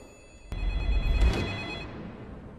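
A telephone bell rings in one bright, sustained burst that rises sharply after a short click, then fades into quiet room tone.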